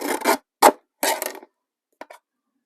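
Paper strip being cut with a decorative edge cutter, a few short crisp rasping strokes close up, then silence after the last faint snip.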